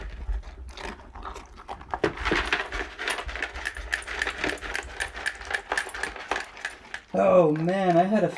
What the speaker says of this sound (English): I have to wash this dish now.